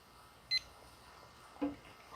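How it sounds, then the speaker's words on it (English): A cooking timer set while grilling a ribeye steak on a barbecue gives two short, faint beeps about a second apart over low background hiss. "Start my timer"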